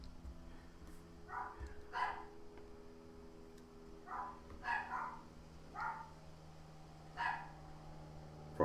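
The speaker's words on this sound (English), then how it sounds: "Don't know if you all can hear my dogs going crazy downstairs." Several dogs bark in short bursts from downstairs in a house, sounding muffled and somewhat distant, with about six clusters of barks spread over the span against a low steady hum.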